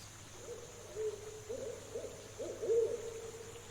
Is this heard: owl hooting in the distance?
yes